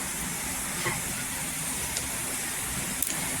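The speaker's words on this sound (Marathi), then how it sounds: "जिरं छान असं तरतरलंय" Cumin seeds crackle in hot oil in a pan for a spicy Maharashtrian onion-chilli thecha, giving a steady, close sizzling hiss with a few small pops along the way.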